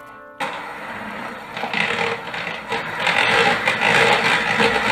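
An electric mixer whips 280 grams of soft butter for a cake cream, starting abruptly and running as a steady, loud whirring scrape that grows slightly fuller over a few seconds, with no voices.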